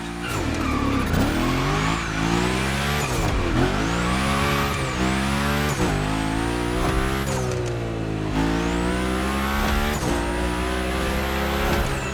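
Car engine revving hard with repeated tire squeals as it slides through a gymkhana course in the video game The Crew Motorfest, loud and continuous with rising and falling pitch.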